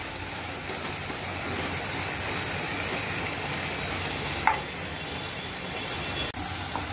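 Chopped tomatoes and cabbage fry in spices for a vegetable pulao, giving a steady, close crackling sizzle like light rain, broken by a sharp scrape or clink of the stirring utensil near the middle and near the end.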